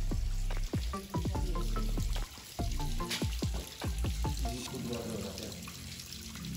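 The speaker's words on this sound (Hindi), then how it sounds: "यहाँ से पानी जो निकलता है वो जाता था उनके लिए, नेहरू जी के लिए।" Spring water flowing from a source at the Chashme Shahi Mughal garden in Srinagar, a steady close splashing and gurgling stream that runs throughout with faint voices in the background.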